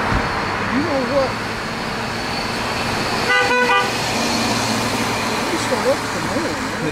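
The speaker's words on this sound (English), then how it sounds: "They're doing the honk for Jesus." Car horns honk from street traffic, several tones with a clear stacked-harmonic blast near the middle, mixed with road noise and engine rumble, while people talk over it.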